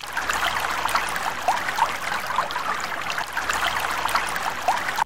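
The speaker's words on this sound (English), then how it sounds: "we went and we ran it under the hot water because that's the fastest way to reveal them" Hot tap water runs steadily over a small Disney Doorables figure, making a continuous close splashing trickle with no break and no voices.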